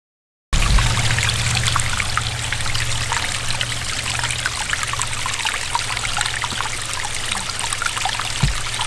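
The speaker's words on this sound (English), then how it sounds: "Let's get all the waterfalls set up right here and then hide this pump." Water trickles and splashes steadily from a small backyard pond waterfall beside a pump and filter setup, a continuous close, even babble running without a break.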